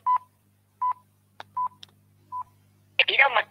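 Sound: telephone dialing tones

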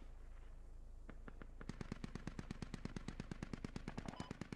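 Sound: gunfire in a video game

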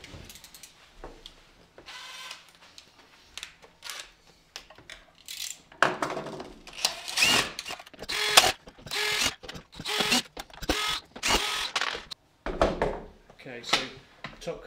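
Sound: removing stainless steel machine thread screws from robot mower cover

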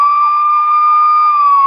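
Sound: toy police robot siren sound effect

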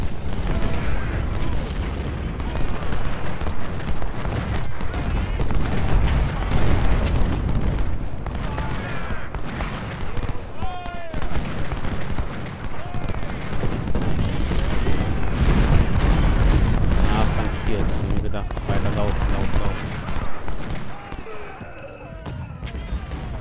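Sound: cannon artillery fire in video game Ultimate General: Civil War

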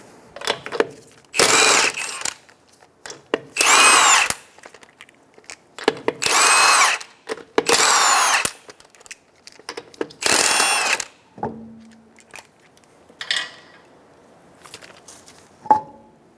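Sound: power tool removing 19 mm lug nuts from Subaru wheel

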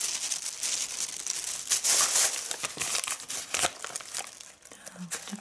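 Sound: crinkling paper wrapping from pharmacy order

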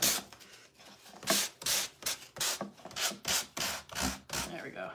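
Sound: sanding to distress a wooden washboard with high-grit sandpaper

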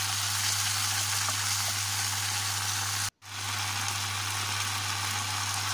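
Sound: stirring string beans stir-frying in a pan with oyster sauce

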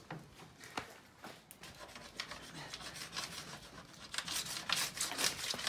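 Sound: scraper scraping excess wax off a board

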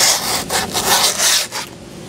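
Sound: sanding skateboard grip tape edges

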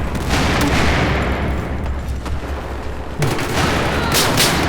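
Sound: explosions and gunfire in the video game Battlefield 4

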